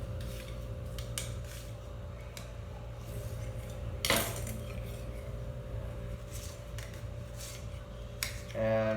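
Knife slicing an onion on a cutting board in a home kitchen, a series of soft scraping and tapping cuts with one louder chop midway, close by, over a steady low background hum.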